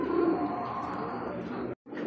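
Lahori pigeons cooing close by in a short, soft burst of low, throaty coos, with a brief silent gap near the end before the sound resumes.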